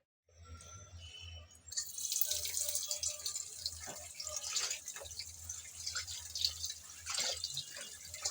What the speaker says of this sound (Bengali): কেটে নিলাম পরিষ্কার করে, এখন ধুয়ে নিচ্ছি।